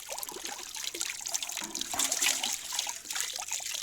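A pan full of water poured straight down into a gold sluice box, splashing and trickling in a short uneven wash that swells midway, close and fairly quiet.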